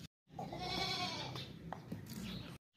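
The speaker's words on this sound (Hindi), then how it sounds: "साफ़ सुथरा मोटा ताज़ा बकरा है" A healthy, long-eared male goat with white eyes at a market selling goats for Eid sacrifice gives one long, loud, wavering bleat close by, followed by quieter handling noises.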